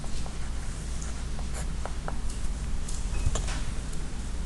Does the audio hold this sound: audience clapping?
no